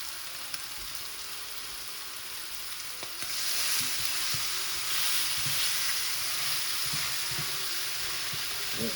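Food sizzling in its own juices in a pan, a steady frying hiss that grows louder partway through, with occasional soft clicks of stirring.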